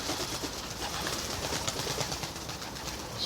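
Young racing pigeons coo softly and continuously, several birds blending into a steady murmur, with no voices.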